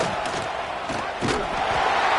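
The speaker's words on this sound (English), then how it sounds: "This crowd knows this defense needs them right now." A stadium crowd at a football game roars in a steady wash of broad, distant-sounding cheering and shouting that swells slightly toward the end of the brief moment.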